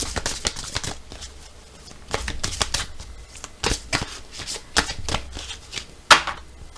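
Oracle cards being shuffled and then cut, close and crisp, heard as repeated quick riffling bursts and slaps in uneven rhythm, with a sharper snap near the end and no talking.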